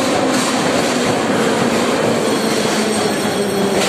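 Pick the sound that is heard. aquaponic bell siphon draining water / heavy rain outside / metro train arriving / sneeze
metro train arriving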